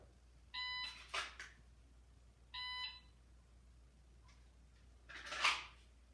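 Two short electronic beeps from a shot timer spaced a couple seconds apart, followed by a louder burst of noise; nobody speaks.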